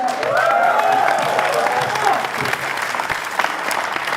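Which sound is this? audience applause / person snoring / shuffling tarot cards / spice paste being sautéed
audience applause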